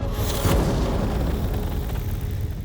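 A single loud gunshot booms out about half a second in, trailing into a dense rumbling tail, with no talking.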